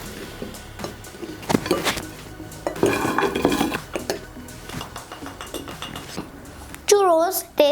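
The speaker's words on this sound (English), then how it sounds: "Let's coat them up with sugar" Churros being tossed in cinnamon sugar in a bowl, with repeated clinks and scrapes of utensils against the dish in irregular bursts, close and fairly loud, with a short voice near the end.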